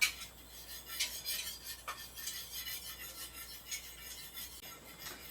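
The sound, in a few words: stirring homemade yogurt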